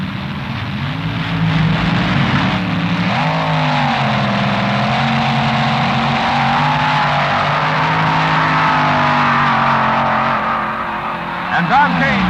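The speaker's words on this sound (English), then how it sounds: "In the far lane, the Beard Freight Train from Santa Monica, twin Chevy engines, Floyd Lippincott Jr. driving." A Chrysler rail and a twin-Chevy-engined dragster launch together at the 1967 NHRA US Nationals, their engines in a loud, sustained roar that climbs in pitch, with an announcer talking over the noise.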